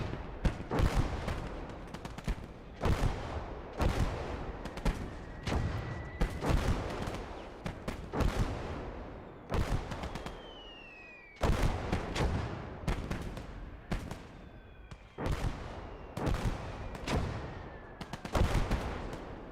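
Sustained gunfire in the WWII strategy game Gates of Hell: Operation Cobra, with rapid rifle and machine-gun bursts rattling steadily across the battlefield and occasional heavier booms, loud and continuous with no talking.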